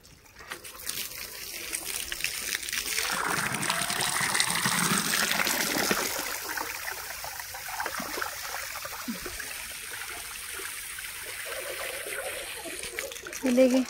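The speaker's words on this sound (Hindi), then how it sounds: "टैंकर फुल हो गया मेरा, पानी कैसे बाहर निकल रहा" Water overflows from a full water tank, a continuous close rush and splatter that swells and then holds steady for the whole stretch.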